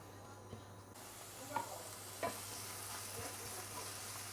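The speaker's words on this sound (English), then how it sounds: "Then you want to saute your ginger, whatever you cut just now. Ginger, garlic." Ginger and garlic sautéing in a pan for Chinese cooking give a soft, steady sizzle, faint and fairly distant, with a few light clicks and scrapes of a spatula and no voice.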